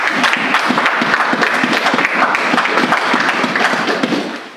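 A church congregation applauding, dense continuous clapping from many hands, loud and close, with no talk over it.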